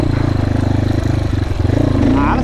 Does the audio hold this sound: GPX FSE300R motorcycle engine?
yes